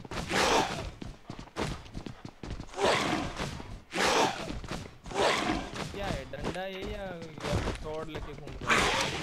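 Gunfire from PUBG's zombie mode, a video game, comes as bursts of sharp shots mixed into the sound, mostly under loud, excited talk from players throughout.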